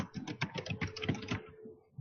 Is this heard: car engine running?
no